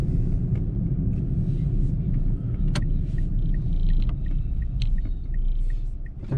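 Steady low road rumble from inside a moving car in traffic, with other cars passing close by, a continuous wash of engine and tyre noise throughout.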